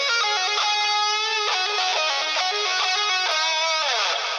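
A distorted electric guitar plays a lead lick, a pentatonic run walking downward with quick hammer-ons and pull-offs, notes flowing in rapid legato bursts with a final sliding bend, loud and alone.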